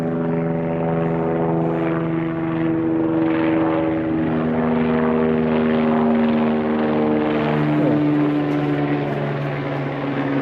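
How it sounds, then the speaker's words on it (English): A helicopter runs close by at a holiday park, its steady rotor and turbine drone loud and continuous throughout, with strong tonal engine harmonics that shift slightly in pitch near the end. "Helicopter noise next to helicopter"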